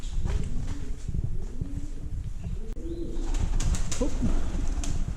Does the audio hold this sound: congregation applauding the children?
no